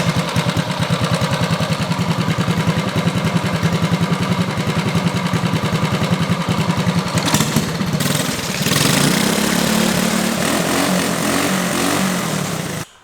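Small drift kart engine running after a pull start with a new spark plug and carburetor fitted, a loud steady close buzzing drone that shifts pitch as the throttle opens, then cuts off abruptly.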